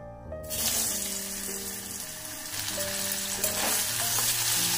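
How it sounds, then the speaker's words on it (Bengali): Cut potatoes hit hot mustard oil and break into a loud, steady sizzle of frying, close by, continuing without a break. "তেলটা আমার গরম হয়ে গেছে, আমি কেটে রাখা আলুগুলো এর মধ্যে দিয়ে দেব।"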